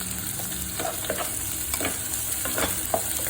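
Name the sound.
onion sautéing in a pan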